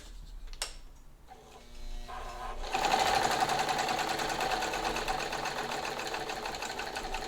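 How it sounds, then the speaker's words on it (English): A sewing machine runs a long straight stitch, starting with a few faint clicks before settling into a steady, close, fast mechanical whir that continues to the end. "I'm going to start with a straight stitch, and I'm going to have my longest stitch length here"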